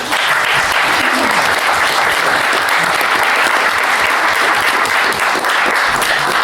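Sustained, dense audience applause fills a comics convention panel hall, steady and loud throughout with no break.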